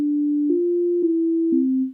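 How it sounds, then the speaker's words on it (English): A plain synthesizer sine wave holds a steady pure tone for about two seconds, stepping slightly in pitch with soft clicks at each change before fading out at the end. "basic sine wave here"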